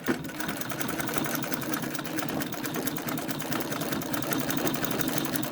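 A domestic treadle sewing machine stitches a fabric face mask, its fast even needle clatter running steadily and close throughout with no talking.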